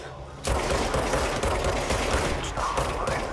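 Sustained rapid gunfire in the video game Control, a dense continuous fusillade of automatic shots that starts abruptly after a short quiet moment and stays loud throughout.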